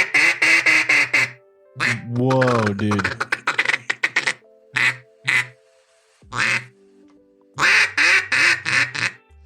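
Duck call blown in bursts to imitate a greenhead mallard's quacking, loud and close, with rapid repeated quacks, a drawn-out descending call and pauses between; people react briefly in between.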